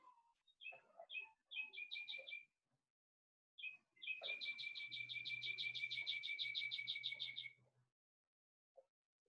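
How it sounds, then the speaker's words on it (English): Outdoor birdsong: several short chirping phrases, then a long, rapid run of bright repeated trills, clear and fairly close, with a low hum beneath and no speech. "Don't you love those birds?"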